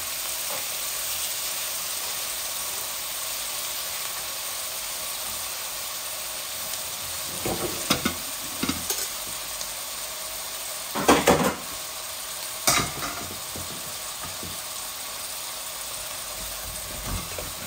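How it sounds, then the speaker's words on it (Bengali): Rohu fish pieces fry in hot oil with a steady, quiet sizzle throughout, broken by a few brief louder clatters and stirring sounds near the middle and toward the end. "এত বেশি কড়া করে ভাজতেছি না, একমতো কড়া করে ভাজবো মাছগুলাকে"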